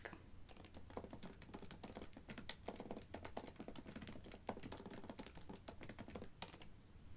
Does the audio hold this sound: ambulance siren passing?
no